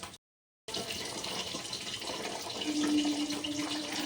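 Water drains steadily from parboiled vegetables in a kitchen, producing a continuous close gushing pour. The flow starts after a brief silence and rises slightly toward the end, with no voices.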